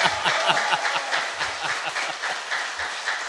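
Applause breaks out during a Korean political talk show, lively and dense clapping with a faint murmur of chuckles, fairly loud and steady throughout.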